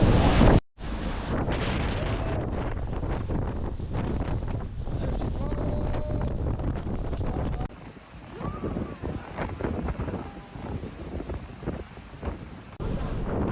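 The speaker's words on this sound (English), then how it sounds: "To say it's windy would be an understatement." Strong wind buffets the microphone in a constant loud roar, with the churn of water and a boat's motion beneath it, on a boat in New Zealand.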